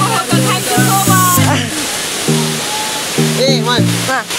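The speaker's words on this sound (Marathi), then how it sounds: "आता मी आलो धबधब्यावर" A steady rushing roar from a hidden waterfall runs underneath loud voices and sustained tonal, sung or musical notes that dominate the foreground.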